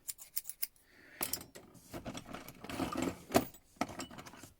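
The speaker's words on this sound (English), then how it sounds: "More scissors." Metal scissors and other hand tools being picked up and handled from a box, producing clicks, clinks and rustling in short irregular bursts, close and moderately quiet.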